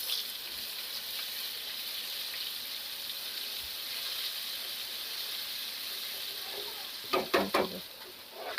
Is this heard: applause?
no